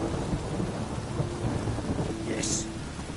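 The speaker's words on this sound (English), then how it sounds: "Rain again." Steady heavy rain hisses and a low thunder rumble rolls through the scene in The Witcher. A brief higher sound rises near the end, with no speech over it.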